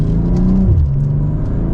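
BMW M lite coupe, a 2025 M440i or M240i, pulling away under gentle throttle, its engine a steady low rumble with a mild rise in pitch, close and continuous from start to finish.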